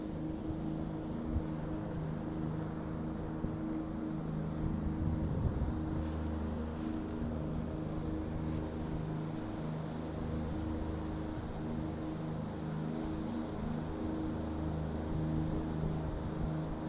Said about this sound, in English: It's a noisy boat.